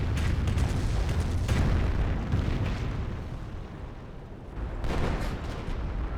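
On-map artillery booms and rumbles in the Company of Heroes battle, a dense, continuous roar of explosions with heavier bursts swelling near the start and again toward the end.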